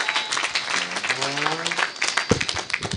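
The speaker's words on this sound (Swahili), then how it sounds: "Wapi makofi ya Ambassadors Choir tafadhali." Applause for the Ambassadors Choir at a graduation ceremony, a steady crowd clapping from a distance under a speaker's amplified voice throughout.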